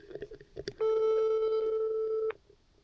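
A single steady telephone ringback tone held for about a second and a half while a call is placed from a forest, with faint movement before and after it and no speech.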